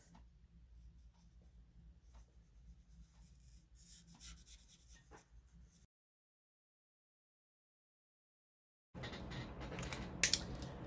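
Blending markers rub and scratch across a card as it is colored in, a soft steady rasp at low level that stops for a few seconds of silence before returning slightly louder.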